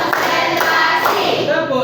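A classroom group claps along in a rhythmic clap routine, loud and close, mixed with voices chanting together.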